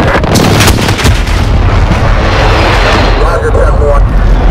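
Air strike explosions in Call of Duty Modern Warfare roar as a continuous, very loud rumbling barrage of blasts, with radio-style voices talking over it.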